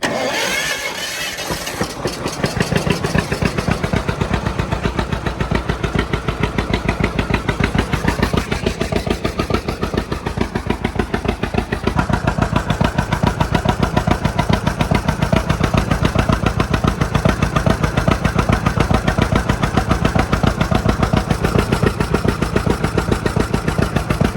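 An old engine, unstarted for over 40 years, cranks with the choke pulled out, catches and settles into a loud, rapid, steady running rattle that continues for the rest of the clip, with no talking.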